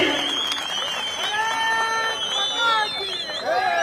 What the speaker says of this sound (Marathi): एकदा जोरदार टाळी आदरणीय फडणवीस साहेबांसाठी